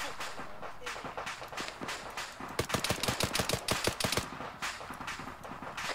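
Gunfire aimed at a T-72 tank in the video game Arma 3, a rapid burst of sharp automatic shots that swells in the middle, heard alongside faint background rumble.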